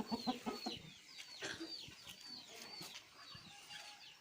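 Hens clucking in a farmyard, a run of short, loud, close clucks at the start that settle into quieter, steadier clucking and soft calls. A few faint chirps are heard in the background.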